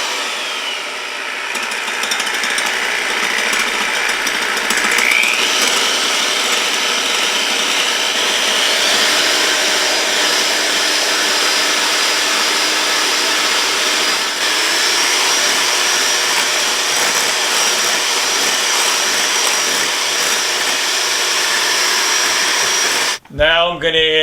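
An electric hand mixer beats egg whites with hot sugar syrup for seven-minute frosting on an Easter bunny coconut cake, a loud, steady whirring drone that runs nearly unbroken for over twenty seconds before a brief clatter at the end.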